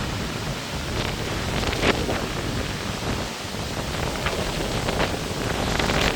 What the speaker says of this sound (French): Oh les rafales.